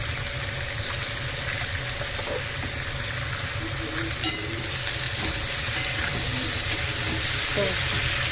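Vegetables with ground coriander, cumin and chilli powder get stirred in a pan over a soft, steady sizzle, with occasional light scrapes and taps. The sound stays fairly quiet throughout.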